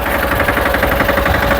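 A tractor engine runs steadily at close range on a farm field, giving a loud, continuous throbbing rumble with a fast, regular pulse.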